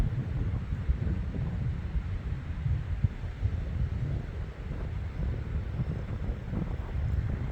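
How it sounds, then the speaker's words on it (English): Strong wind buffets the microphone on a bushy hillside near Perth, a steady loud low rumble with gusting throb and no voices. "It's very windy up here."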